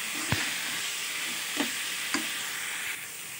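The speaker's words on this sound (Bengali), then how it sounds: "1/2 চামচ শুকনো লঙ্কার গুঁড়ি আর স্বাদ মতো লবণ দিয়ে ভালো করে নাড়াচাড়া করে নিলাম" Olive pickle with dried chilli powder, turmeric and salt being stirred in a hot pan, a steady sizzle broken by three or four sharp scrapes of the spoon against the metal, close and fairly quiet.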